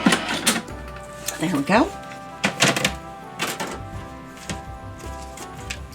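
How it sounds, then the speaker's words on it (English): A sheet of cardstock is cranked through a die-cutting and embossing machine inside an embossing folder, producing a series of close mechanical ratcheting clicks and clunks, with a person speaking between them. "I will run this run through one more time with the embossing folder"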